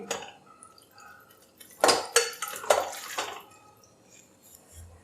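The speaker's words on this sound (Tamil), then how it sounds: "அதை வந்து குக்கரில் சேர்த்துக்கிறேன்" Half a kilo of washed mutton goes into a pressure cooker in a home kitchen, several close clattering metallic knocks and wet thuds in a short burst, then quiet.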